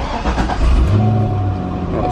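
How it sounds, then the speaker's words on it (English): A Chevrolet Corvette ZR1 engine fires up inside a home garage, a low rumble swelling as it catches and then settling into a steady, close idle with a faint whine on top. "I'm actually gonna start the Corvette real quick."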